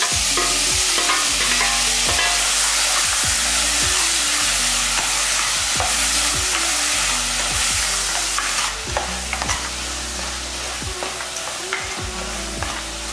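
Chopped tomatoes sauté in a pan for a chickpea and brinjal gravy, producing a loud continuous sizzle punctuated by frequent stirring knocks, with a steady low hum throughout.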